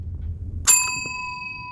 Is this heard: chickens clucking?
no